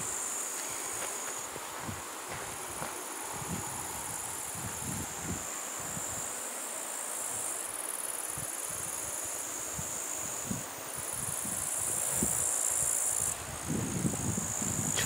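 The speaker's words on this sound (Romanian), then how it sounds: "Ce fel să au greierii?" Crickets chirp steadily outdoors by a river in rural Harghita, Romania, a continuous high-pitched trill lasting throughout with light rustling and faint scattered noises underneath, no voices.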